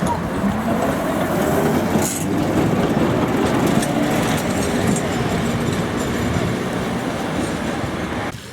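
A KTM tram pulls away on the Pyatigorsk line, its steady rolling rumble and rail noise loud and close throughout with no break.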